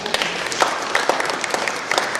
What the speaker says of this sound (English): big clap to the Cuban ambassador